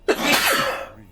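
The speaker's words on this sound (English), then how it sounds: "Gesundheit." A single loud, close sneeze bursts out sharply, then trails off in a raspy, breathy exhale lasting under a second, with nothing else around it.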